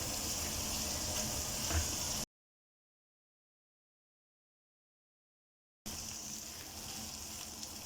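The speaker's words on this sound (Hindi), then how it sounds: "थोड़ा हमने चूल्हा तेज़ कर दिया और अब हम इसको भूनते हैं।" Goat liver fries on a tawa over a high flame, a soft steady sizzle with faint bubbling that breaks off into a silent gap midway before resuming, no voices.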